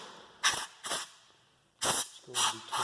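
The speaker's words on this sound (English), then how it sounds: "You're then going to spray inside and hopefully remove any dust" Four short sharp bursts of compressed air spray hiss loudly into a Coinco vending machine bill validator, two close together, a pause, then two more, with quiet between them.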